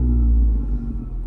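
A 10th-generation Honda Civic Type R pulls out of a touchless carwash, its engine a brief, steady low rumble heard up close with no talking.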